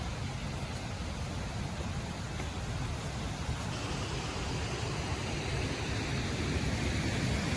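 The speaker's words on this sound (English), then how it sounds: "Sounds like a waterfall up there too." A distant waterfall on a roadside creek gives a steady, unbroken rush of broadband water noise, even and constant throughout with no other sounds standing out.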